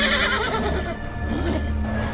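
A horse whinnies loudly in the Roblox Wild West game, a drawn-out shrill neigh that falls away, with faint hoof clip-clop and game ambience underneath.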